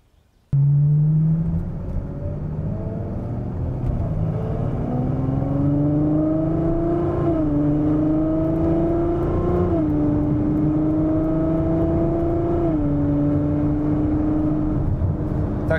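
A Ferrari F12 Berlinetta 6.3-litre V12 pulls hard from 80 to 140 km/h, its engine note rising loud and steady, with brief dips at each upshift before climbing again.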